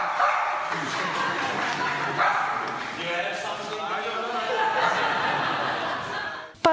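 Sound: dog barking at award ceremony, audience laughing

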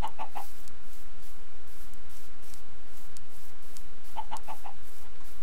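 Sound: chickens clucking in the video game Minecraft

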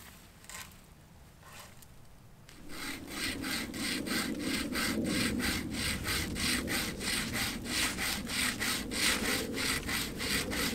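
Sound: improvised bow saw cutting wood

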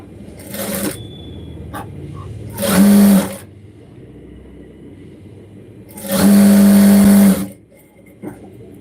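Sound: sewing machine stitching a cross belt

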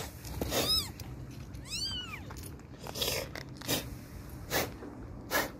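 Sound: kittens rescued from rubble meowing

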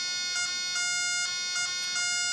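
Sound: gas leak detector alarm

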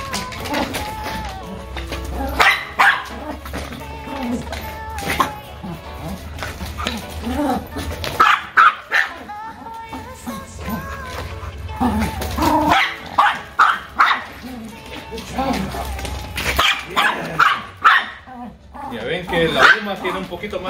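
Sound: dog barking while working

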